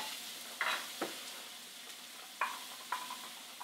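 Bacon frying in a pan for a country-style rigatoni, a faint steady sizzle broken by a few sharp clicks and scrapes of stirring, with no talking.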